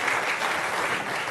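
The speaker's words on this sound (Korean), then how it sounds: "다시 한번 감사의 뜻으로 큰 박수 부탁드리겠습니다" A forum audience at a university business event gives a large round of applause, a dense, even wash of clapping with no gaps.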